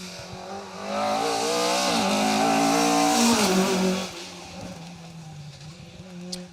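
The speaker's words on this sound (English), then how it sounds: "First up though, the Gairlock Head coaches backed Escort Mark II of Stephen Street and Robert Wood." A Ford Escort Mark II rally car on an asphalt stage roars past close by, engine note climbing through revs before dropping away as it recedes, with a faint click near the end.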